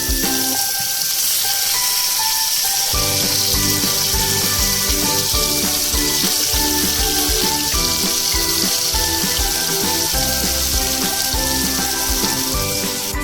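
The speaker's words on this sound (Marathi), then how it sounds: "तेल गरम झालेलं आहे, त्यामध्ये मी ऍड करते आता कांदा।" Chopped onion hits hot oil for a Konkani-style fresh cashew curry, and a loud, bright sizzle kicks in a few seconds along and carries on steadily.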